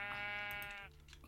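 Single sheep bleat from the video game Minecraft, a short wavering baa heard alone and fairly faint, fading quickly into quiet.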